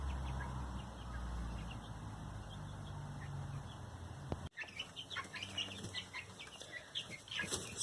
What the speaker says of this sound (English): they are happy birds, and my favorite kind of chicken is a happy chicken